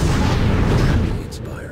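A missile strikes a starfighter in Star Wars: The Old Republic Galactic Starfighter, a loud, sustained low rumbling blast that rolls on for the whole moment and thins slightly at the end.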